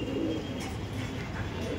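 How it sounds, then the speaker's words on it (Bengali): Pigeons of a fancy breed coo softly in a loft, a low repeated cooing heard close and alone. "সব বন্ধ দমের পায়রা আছে।"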